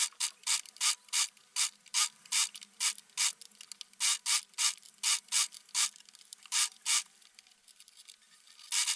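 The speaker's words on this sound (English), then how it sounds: "I'm gonna go ahead and sew it." A sewing machine stitches a rolled hem on a garment piece, giving rapid bursts of rhythmic mechanical clicking that stop and start in short runs, close and fairly quiet with no talking.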